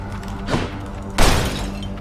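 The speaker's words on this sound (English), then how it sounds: "2 reasons to smash pots" Pots breaking in the video game Hades: two separate smashes, a lighter crack followed by a louder, fuller shatter with a brief crumbling tail, set against quiet background game music.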